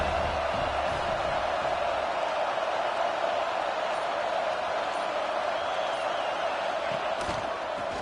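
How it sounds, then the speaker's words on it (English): A big football stadium crowd at an Auburn home game against Texas A&M rises into a steady, far-off roar of cheering that runs on at an even level. "This crowd rising up, sensing that its defense needs some help."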